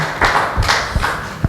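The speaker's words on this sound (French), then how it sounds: "On l'applaudit quand même encore, hein." Scattered audience applause at a fashion show for a model, a few uneven claps and taps close by, brief and moderately loud with no talk.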